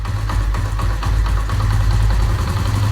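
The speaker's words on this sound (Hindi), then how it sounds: "जहां पर आपकी बाइक सबसे ज्यादा आवाज कर रही हो" A motorcycle engine idles steadily and loudly nearby while its carburetor screw is adjusted, giving a low, throbbing drone with a fast, even pulse and no voices.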